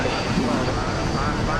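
NASCAR Xfinity Series race car engines fire up at Texas Motor Speedway, a dense, loud, continuous roar of many engines with a voice over it.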